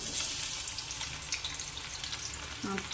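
Finely chopped onion dropped into hot oil for Vidarbha-style patwadi rassa gives a soft, steady sizzle and crackle close by, with a brief clink near the end and no voices.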